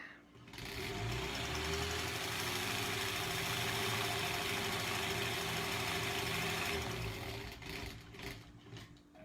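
Sewing machine stitching quilt pieces for a granny squares block, a fast steady mechanical whir and needle chatter running continuously for several seconds, then stopping near the end.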